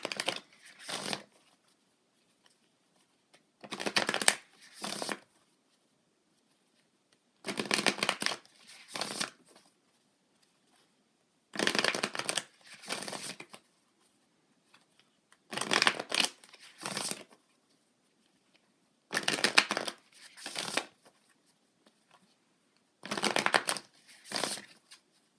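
Tarot cards being shuffled in six separate bursts of quick riffling and slapping, each about a second or two long, split by near silence, close and clear.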